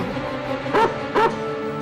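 Two short dog barks or yelps, evenly spaced about half a second apart, sounding close over a steady low background hum.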